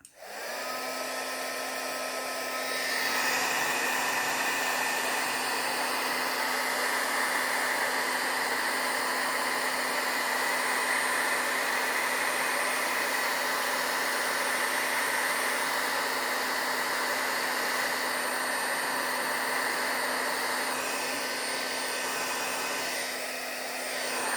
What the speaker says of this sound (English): I'm just going to heat emboss it really quick.